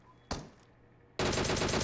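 Burst of automatic rifle fire in PUBG Mobile, starting after a single sharp shot and a short lull, then a loud, dense rapid volley that carries to the end.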